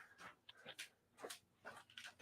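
A dog whines and whimpers just outside an office door, with short high-pitched cries broken by huffing pants, close and fairly quiet with no talking.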